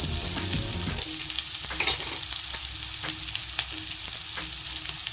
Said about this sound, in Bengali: আবারও ভালো করে আলুর সাথে কিন্তু মটনটা ভালো করে আবার ভেজে নেব।